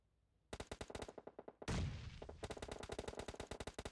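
Rapid bursts of gunfire from PUBG Mobile in a women's pro league final, loud and close: a quick string of shots, a heavy blast-like burst in the middle, then another long rattling volley, with no talk.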